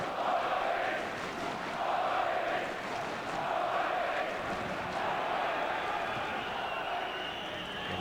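A large Aalborg football stadium crowd murmurs and swells with steady, distant roar during a 1995-96 European Cup group match against Porto, continuous and even throughout.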